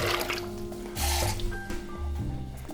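Water, five cups, pours into a pot for a peach sugar syrup, a gurgling, splashing stream heard up close under background music.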